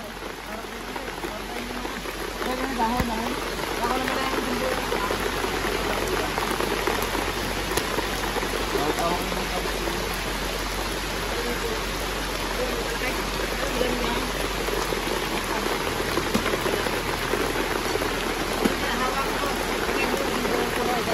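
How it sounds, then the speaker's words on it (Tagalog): Steady, dense rain pattering on a surface, a constant wash of drops throughout, with a voice speaking faintly at times. "Inabot na ng ulan."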